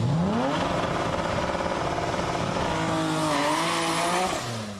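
A Toyota Supra drag car at a Japanese JDM drag racing meet launches with a rising engine roar, climbing through gear pulls with loud, sustained revving and some tire noise.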